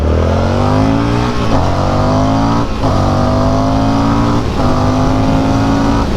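A 2024 Indian FTR R Carbon motorcycle accelerates hard in first gear on a test ride. Its loud, close engine climbs in pitch through several surging pulls, with brief dips between them.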